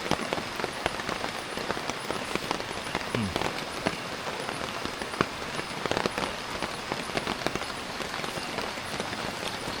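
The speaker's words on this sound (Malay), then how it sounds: "duduk tepi sungai ke dengan suasana hujan yang macam ni" Steady rain falls at a riverside campsite in the wild, a dense, even patter of drops hitting surfaces with scattered sharper ticks, continuous and fairly close for the whole stretch with no one speaking.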